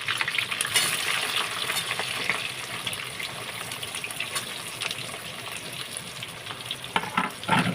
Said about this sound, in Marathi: कांदा मिरची व्यवस्थित तेलामध्ये परतून घ्यायचं